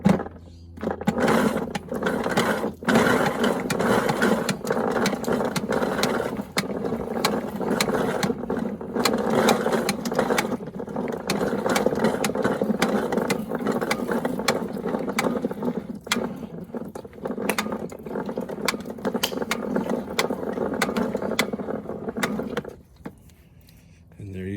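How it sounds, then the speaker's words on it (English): A Gartenkraft retractable garden hose reel winds its hose back in, producing a long, loud, continuous rattling, whirring mechanical drag with clicking ratchet-like ticks that runs steadily for about twenty seconds before stopping abruptly near the end. "And now I'll show you just how easy it is to retract your hose."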